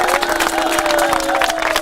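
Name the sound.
supporters cheering as wrestlers enter the ring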